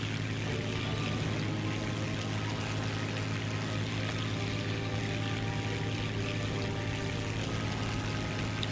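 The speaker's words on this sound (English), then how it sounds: "there's our bomber" A bomber aircraft engine from War Thunder drones steadily, a constant dense roar holding even loudness from start to finish with no other sounds on top.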